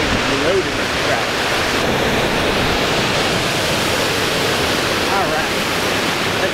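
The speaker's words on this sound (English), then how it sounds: "Beautiful waterfall." A waterfall at a trout fishing spot fed by a spring, a loud, steady broadband roar of falling water that fills the scene without a break.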